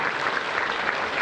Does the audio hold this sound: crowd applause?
yes